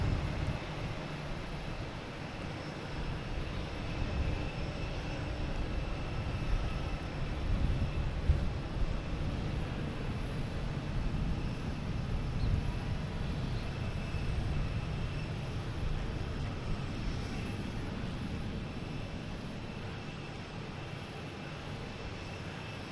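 An airliner engine rumbles continuously at Boston Logan Airport, a steady, fairly distant broadband drone with a hazy low roar that persists throughout and no speech.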